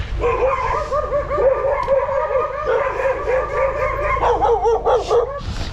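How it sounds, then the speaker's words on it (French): Several dogs bark and howl continuously close by, with yips and wavering whining tones layered over a steady background rumble. "Mais les chiens sont toujours là."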